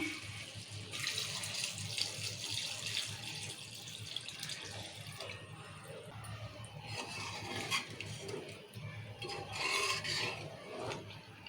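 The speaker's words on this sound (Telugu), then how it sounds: "ఇప్పుడు వాటర్ పోసుకుందాము మనకు తగినన్ని వాటర్ పోసుకుందాము" Water poured into a pan of chicken curry cooking in oil, a steady rushing pour with rubbing, stirring textures running throughout, close and moderately loud with no talk.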